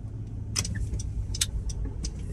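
A Bentley car drives past outside an office building site, a steady low engine rumble with a few sharp clicks and clatters on top.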